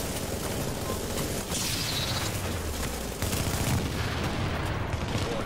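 Gunfire in The Division during a multiplayer server fight, a steady dense wash of battle noise with sharp cracks and a louder shot just past the midpoint, no talking.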